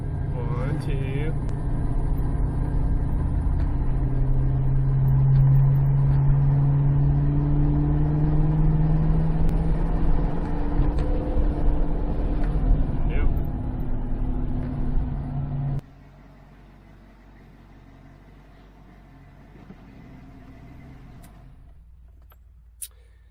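A Ford car with a C4 transmission revs loudly and steadily with engine drone and shifting tones, then cuts abruptly to a quiet idle-like hum with a faint click near the end.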